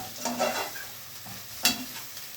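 Chicken tossed in a pan with green onion and peppers sizzles softly under a few quick stirring scrapes, one sharper clink standing out, no voices.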